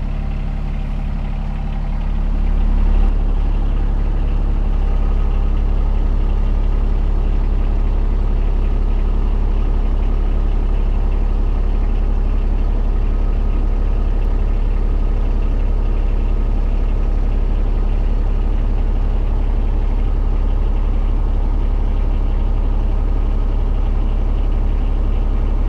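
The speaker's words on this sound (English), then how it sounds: "I just had the tractor idle, so it takes a little bit of walk time to cycle the cylinder" A John Deere tractor engine idles steadily while a 17P tandem hydraulic dump cart slowly raises, a constant loud low rumble throughout with a slight shift in tone early on.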